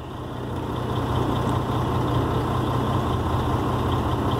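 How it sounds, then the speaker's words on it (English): A diesel truck that had run out of fuel idles with its engine speed raised by the cruise control. It makes a steady, fairly loud low rumble that swells slightly in the first second and then holds even, with no talking. "We can use the cruise control to idle this thing up and let it run for a while."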